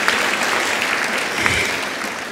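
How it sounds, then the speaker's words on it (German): Dense, even applause from a cabaret festival audience for comedian Teresa Reichl holds steady throughout, a warm wash of many hands with no voices on top. "Danke, Mama, für den Applaus."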